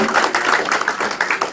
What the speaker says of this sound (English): I'm going to ask you to give them a round of applause